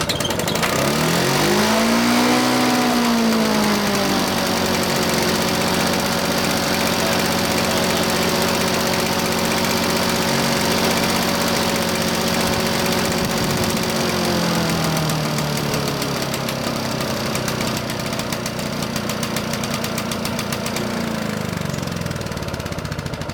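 A Victa Golden Anniversary two-stroke lawn mower engine catches and runs loudly and steadily close by, its pitch rising as it comes up to speed and dipping briefly partway through before settling.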